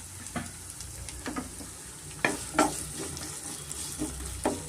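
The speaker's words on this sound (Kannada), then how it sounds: "ಸ್ವಲ್ಪ ಆಯಿಲ್ ಬಿಸಿ ಆದಮೇಲೆ ನಾನು ಈರುಳ್ಳಿ ಸೇರಿಸ್ಕೊತಾ ಇದ್ದೀನಿ" Thick-cut onions frying in hot oil, a soft steady sizzle punctuated by sharp scraping and clinking strokes of a spatula against the pan, close and unaccompanied by talk.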